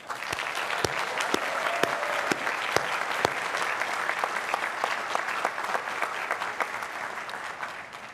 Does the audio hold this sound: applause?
yes